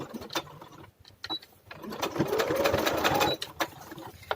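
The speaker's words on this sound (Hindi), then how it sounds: "अब हम यहाँ से स्टिच करेंगे और पूरा कॉर्नर पे स्टिच कर लेंगे।" A sewing machine stitches the corner of a Mandarin high-neck collar over buckram, running in short close bursts and then one longer steady whir, with brief pauses between.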